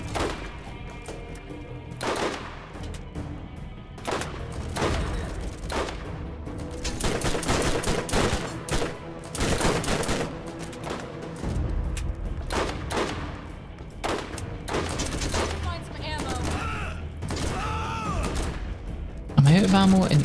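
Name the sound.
gunfire in the video game Borderlands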